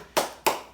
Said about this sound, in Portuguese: Palmas para sua mãe, porque ela conseguiu.